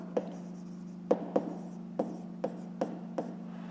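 A pen writes out a numeric answer in a fifth-grade maths exercise, with a run of sharp little taps and strokes against paper over a steady low hum.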